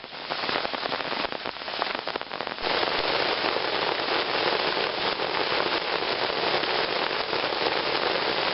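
Heavy rainy-season rain pours down in the Brazilian jungle, a dense, constant hiss of drops on leaves and surfaces that holds steady throughout with no voices.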